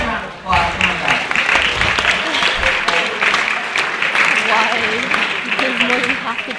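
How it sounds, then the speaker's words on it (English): Audience applause for volunteers coming on stage at a mental calculation show, loud dense clapping from a large crowd filling the whole stretch, with voices faintly underneath. "Let's give these volunteers a nice round of applause."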